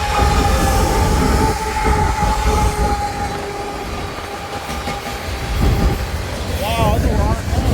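An eastbound freight train rolls through Durand nearby, a loud steady rumble of rail cars with wheel squeals and a horn-like tone, while people talk.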